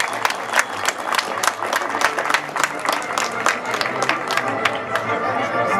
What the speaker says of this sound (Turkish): Üç arkadaşınız için de kocaman bir alkış alalım çocuklar.